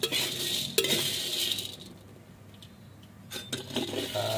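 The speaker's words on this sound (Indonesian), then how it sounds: "Ini jangan sampai gosong ya. Kita aduk terus seperti ini." Fish bait being stirred while dry-roasting in a pan, scraping and clinking of a utensil against the pan in uneven bursts, close and moderately loud, easing off briefly before scraping resumes.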